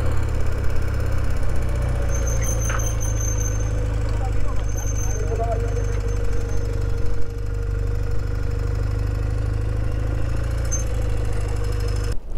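A motorcycle engine idles steadily at close range with a low, continuous rumble in Costa Rica; faint voices and small clicks come through in the background.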